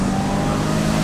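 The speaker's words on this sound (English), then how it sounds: "we'll do a quick little cheeky acceleration test" A Peugeot 306 GTI-6, a 1990s hatchback, accelerates hard with a loud, steady engine roar held close and continuous through the whole brief moment, with no talk.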